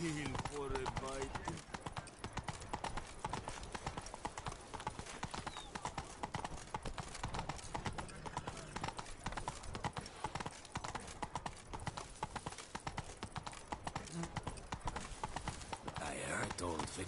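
Roach the horse's hooves clip-clop steadily and continuously in The Witcher 3, a busy layered game soundscape with voices talking over the hoofbeats throughout.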